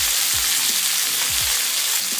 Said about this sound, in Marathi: मिरची चांगली अशी तेलावर परतवून घ्यायची आहे